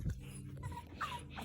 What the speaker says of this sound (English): Puppy time.